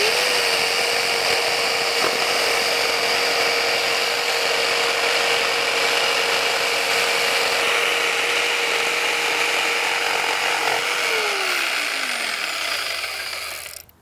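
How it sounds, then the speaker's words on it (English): A jigsaw cuts wood for building sawhorses, a close, steady buzzing rasp running continuously for about thirteen seconds before winding down and stopping, with no voices. "we're going to go ahead and cut this line with our jigsaw."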